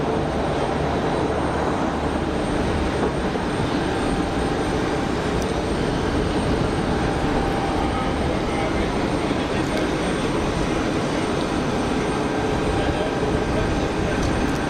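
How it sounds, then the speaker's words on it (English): A Pegasus Airlines Neo airliner taxis at Geneva Airport, producing a continuous broad jet-engine roar that holds steady and fairly loud throughout. "As the Pegasus Neo is taxiing out."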